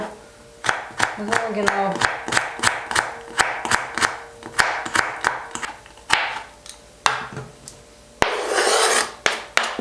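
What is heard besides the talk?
knife cutting vegetables into strips for plov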